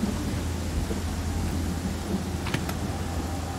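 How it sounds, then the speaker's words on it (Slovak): Thunder rumbles steadily through a game storm in Pathfinder: Kingmaker, with rain hiss and a sharp lightning crack partway through, loud and close throughout. "v tej búrke triafajú blesky"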